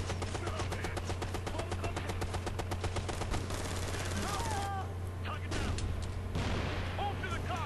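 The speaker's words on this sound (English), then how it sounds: "I had the wrong gun on, and I'm blind firing." Rapid automatic gunfire as a soldier blind-fires from cover in Ghost Recon: Future Soldier, a tactical shooter, sustained bursts of rapid shots over a constant low rumble, with bursts of chatter and effects toward the end.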